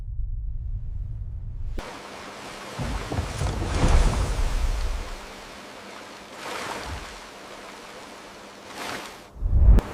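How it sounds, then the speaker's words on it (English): Ocean waves surge and break in long, heavy washes of broadband roar, swelling several times across the stretch with a loud crash near the end; no voices. "Ocean waves crash in slow motion."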